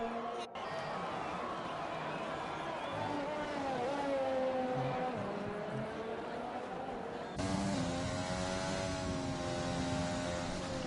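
BMW race car in a racing video game pulling out of the pits at the Japan round on soft compound tyres, its engine note rising and shifting steadily, then a second louder engine layer cutting in, under a faint crowd-like wash.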